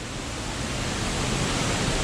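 Laurel Creek Falls in North Carolina roars steadily among huge boulders, a dense, continuous broadband rush of falling water filling the scene, close and loud without any voices.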